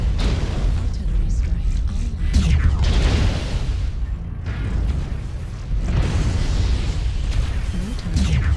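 Artillery strike explosions booming in MechWarrior Online, a steady roar of blasts and rumbling impacts filling the whole stretch, with a brief lull midway before the barrage swells again.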